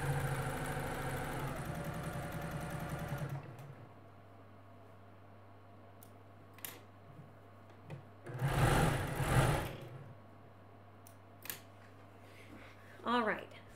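A home sewing machine stitching a Dresden plate quilt blade whirs steadily for a few seconds, then stops, leaving soft handling noises and a brief rustle close by.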